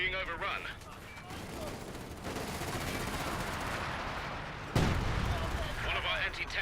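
Artillery and anti-tank guns firing in Company of Heroes 2, a dense rumble of distant shots and booms with one sharp blast partway through, under steady battle noise.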